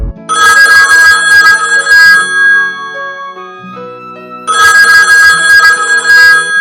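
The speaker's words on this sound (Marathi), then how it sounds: "आणि पुन्हा एकदा तो फोन वाजला।" A telephone rings loudly in two bursts of repeated electronic bell trills, separated by a short musical interlude, with no talk over it.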